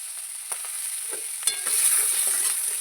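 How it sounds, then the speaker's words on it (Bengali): Snails stirred in hot oil in a pan, close-up sizzling and frying with a couple of scraping stir strokes, steady and bright, with no talking. "তেলের মধ্যে নেড়ে নেবো"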